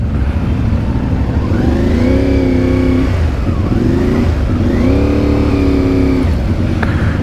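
CF Moto 450 Ibex motorcycle engine on a ride, a steady loud mid-range drone with repeated rising and falling revs as the rider works through the throttle, no voices over it.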